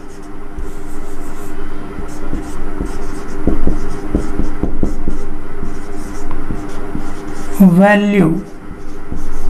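Chalk or marker strokes on a board during a complex analysis lecture, a series of short scratchy taps under a teacher's continuous speech.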